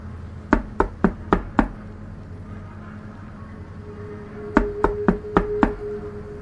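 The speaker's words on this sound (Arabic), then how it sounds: "سمعت صوت تخبيط جامد قوي على الباب" Two bursts of five loud, sharp bangs on an apartment door, evenly spaced and close by, separated by a few seconds of low room hum.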